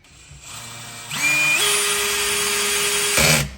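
A cordless drill whirs up, then its clutch slips at the torque limit with a steady ratcheting buzz before stopping.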